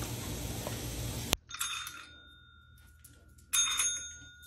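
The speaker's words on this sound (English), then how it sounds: "Ring your bell." A dog strikes a small tabletop bell, giving two bright metallic dings with ringing decay, separated by a quiet pause after a burst of broadband noise.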